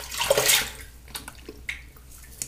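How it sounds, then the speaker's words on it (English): Water splashes as shaving soap is rinsed off a face. Splashing comes in a short burst, then softer drips and small splashes, close and alone. "It does take a bit of work to rinse."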